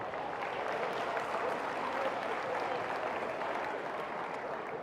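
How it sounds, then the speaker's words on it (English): A quick round of applause from a high school crowd at a decision day assembly, a soft, even wash of many hands clapping at a distance, steady throughout without talk. "So let's give them a quick round of applause."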